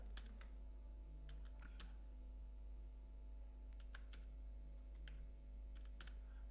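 Keys tapped on a computer keyboard in short irregular bursts of clicks, faint and close against a steady low electrical hum, with no voices.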